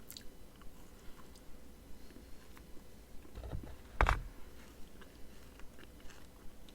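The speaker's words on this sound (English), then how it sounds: "Got a nice satisfying chew to it." Someone chews a cold weather chicken and rice MRE meal up close, soft repeated bites and crunches in a steady rhythm with one louder crunch midway, no talking.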